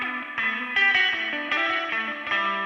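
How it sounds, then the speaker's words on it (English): Electric guitar run through a reverb pedal into a delay pedal, a run of picked chords changing every half second or so, each trailed by echoes and ambience, steady and close with no voices. "Here's reverb into delay."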